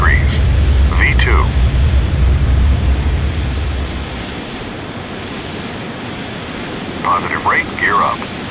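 Bombardier CRJ700 jet engines at takeoff thrust in Microsoft Flight Simulator give a loud, low, steady roar that eases a little midway. Brief spoken calls cut in over the engine noise at the start and near the end.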